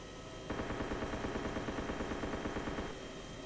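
A rapid burst of gunfire in the DayZ video game plays as a fast, evenly spaced string of shots lasting a few seconds, loud against a steady background hum.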